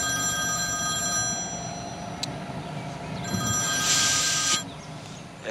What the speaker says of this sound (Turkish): Aç çocuğum şu telefonu